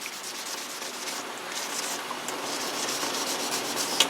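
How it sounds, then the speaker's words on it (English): Light hand sanding of the metal grill from a NuTone IS69 entry door station being refinished: a steady, soft, close scratchy rubbing that continues evenly throughout, with no talking. "We'll give it a little sand."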